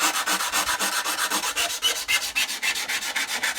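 Sandpaper rolled up and rubbed along the edges of a Tamiya 1/10 GR Yaris RC car body, a steady fast rasping in short repeated strokes, close and alone.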